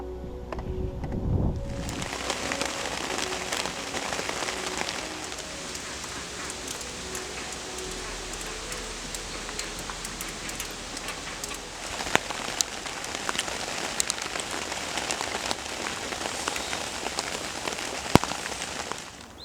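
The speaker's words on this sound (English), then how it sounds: "The rain arrived and we had a few hours of constant downpour" Steady rain falls in a constant downpour, a soft even hiss with scattered sharper drip taps throughout, fairly quiet and unbroken, with no voices.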